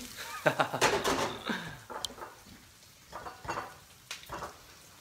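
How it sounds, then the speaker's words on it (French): Onions being stirred in a pan while cooking, with scraping clatters and soft sizzling in irregular bursts, moderately close, alongside brief voices and a sharp metallic clink. "On remue les oignons."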